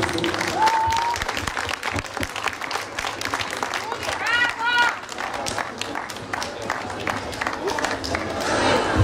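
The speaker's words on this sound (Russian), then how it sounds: "Ваши аплодисменты учащиеся школы номер 38." Crowd applause rings out at an outdoor holiday concert on Lenin Square in Vladikavkaz, a continuous wave of clapping from a large audience, with some cheering and chatter mixed in.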